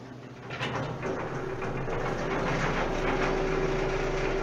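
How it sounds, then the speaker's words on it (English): A jaw crusher's conveyor and vibrating hopper motor run with a steady heavy mechanical drone and rattling hum, and a thin tonal whine settles in as the machinery keeps going. "So you turn the conveyor on first, and then the vibrating motor."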